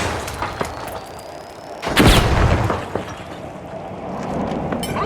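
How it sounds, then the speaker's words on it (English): A frag grenade goes off in the shooter game The Finals: a single loud, close boom bursts out midway and rumbles on for about a second over quieter background clatter and scattered sharp pops. "Frag grenade"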